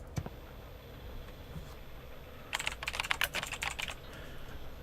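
Computer keyboard typing inside the video game Event[0] comes as a quick burst of close, crisp keystrokes lasting over a second after a couple of isolated clicks, set against a quiet hum.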